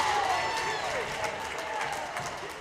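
Spectators at a high school hockey game between Fort Collins and Chaparral applaud steadily in an arena, a dense, moderately distant wash of clapping over arena reverberation.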